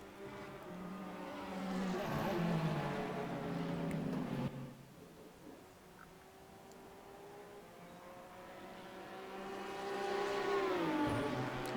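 GT3 race cars in Automobilista at Albert Park whine through the gears as engine notes sweep up and shift, one car louder and passing near, then fading before another engine climbs again toward the end.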